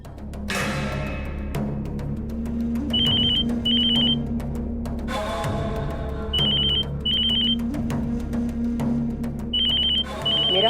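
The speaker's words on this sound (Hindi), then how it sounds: "तुम्हारी बीवी फोन पर फोन कर रही है" A telephone ringing in a drama scene, short bursts of electronic trill repeating in pairs at regular intervals over a low hum and a busy background, with no one talking.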